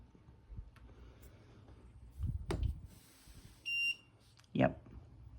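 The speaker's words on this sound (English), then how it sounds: "Now, if I were to turn this on, it would beep." LiTime 12 V 200 Ah LiFePO4 battery with Bluetooth BMS beeping as it powers on, one short steady electronic beep amid handling noises and brief talk.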